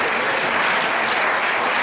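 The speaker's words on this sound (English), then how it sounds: "let's give him a round of applause" A crowd at a family reunion applauds steadily, a dense, even clapping that fills the short stretch without pause.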